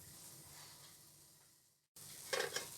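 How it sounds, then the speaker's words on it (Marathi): Potato patties shallow-frying in oil in a pan: a steady, faint sizzle that cuts out briefly, then returns slightly louder with short crackling pops. "मी शॅलो फ्राय करून घेणार आहे"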